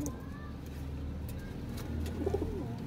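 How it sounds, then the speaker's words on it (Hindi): A female pigeon of a flying breed coos softly with a brief low burble near the end, under steady background noise. "ये कबूतरी है"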